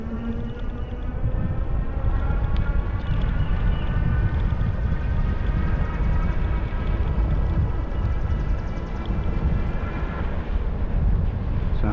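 Denago Commute 2 e-bike running on throttle, with a steady electric motor whine and tonal hum riding over heavy wind and road rumble, continuous and close.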